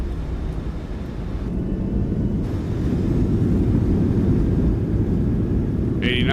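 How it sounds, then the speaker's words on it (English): Thrust reversers roar in a PMDG 737-600 flight simulator landing, a steady loud broadband rumble that builds and holds throughout, with a brief higher whine near the end. "Reversers on."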